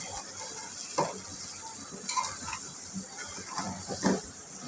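Vegetables with added milk being stirred in a pan, soft sizzling beneath intermittent spoon scrapes and clinks against the pan at an uneven rhythm, fairly quiet.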